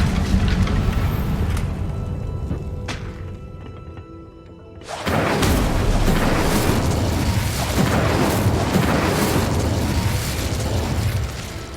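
A fire spell bursts out in the Hogwarts Legacy wizarding game. A low, busy rumble drops away, then a sudden loud whoosh ignites into a sustained roaring blaze that fills the remaining seconds.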